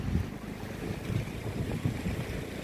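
A light sea breeze blows across Ho Tram public beach on a clear early morning, buffeting softly with gentle waves washing in behind it, steady and unbroken with no one talking.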